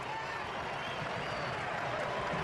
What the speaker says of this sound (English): The German faithful in the crowd erupt.